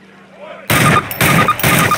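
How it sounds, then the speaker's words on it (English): Thompson submachine gun fire in Call of Duty (2003, PC) at a training range at Camp Toccoa: three loud, close bursts in quick succession following a brief quiet lead-in. "Fire three more rounds at your target."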